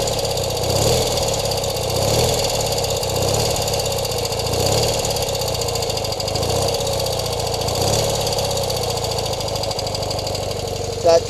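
A 1972 BMW R60/5 motorcycle, a stock survivor, idles steadily with an even, loping putter and faint mechanical ticking, close by and unbroken for the whole stretch.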